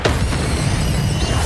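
A fire spell cast in Hogwarts Legacy: a sharp whooshing burst at the start that rolls into a sustained, loud, roaring blaze, steady and close, with no speech over it.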